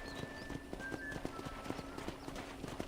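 A horse's hooves clip-clop in a quick, steady rhythm on a ranch, many close, sharp knocks evenly spaced, with faint background tones and no talk.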